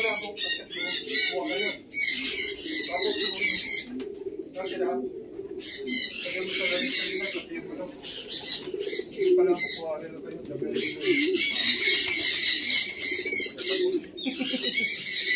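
A crowd of pigeons coos continuously inside a loft, with bright chirps and calls rising in bursts over the low murmuring coos, while people talk nearby throughout.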